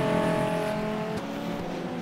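Race cars in the rFactor sim racing game during a Viper Cup race, a big pack of engines droning steadily together, loud and close throughout with a slight dip midway.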